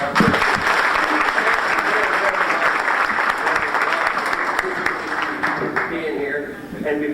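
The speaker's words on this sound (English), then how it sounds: "another round of applause for that." An audience gives a long round of applause at a luncheon gathering, with steady, loud clapping throughout and some voices mixed underneath.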